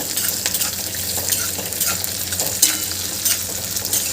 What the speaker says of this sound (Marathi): फक्त कांद्या कांद्याचा कच्चेपणा जातपर्यंत आपल्याला याला परतून घ्यायचं आहे